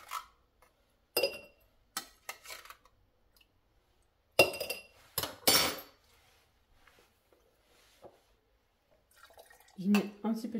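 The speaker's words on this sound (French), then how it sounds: "Je mets un petit peu de sirop et je vais rajouter un petit peu d'eau." Syrup and then water poured into a glass for a simple cocktail, heard as a few short splashing, dripping bursts with light glass clinks between pauses, fairly close and moderately quiet, with a voice talking briefly near the end.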